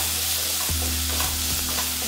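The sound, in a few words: tomato frying in a pan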